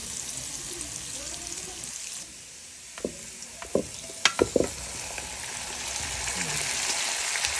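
Butter from a small sachet melts in a hot pan with a steady, bright sizzle, broken by a few sharp taps and scrapes of stirring near the middle.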